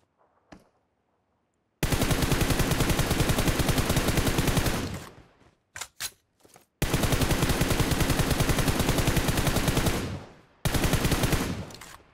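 Rifle gunfire in PUBG Mobile, heard as two long sustained bursts of rapid automatic shots with a few scattered single shots between them, loud and close with no talk.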